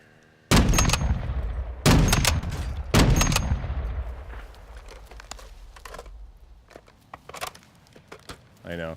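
Three loud, close gunshots from a .50 caliber sniper rifle in Call of Duty Modern Warfare 2 DMZ, each with a long booming decay, followed by fainter scattered distant shots and clicks.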